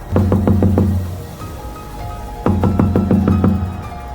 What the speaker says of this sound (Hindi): वो रोज रात में घर घर जाके जोर से दरवाजा खटखटाती है